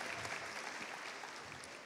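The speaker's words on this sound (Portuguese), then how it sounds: "Salva de palmas para elas." A church congregation claps in a steady, faint round of applause heard from a distance, with no voices over it.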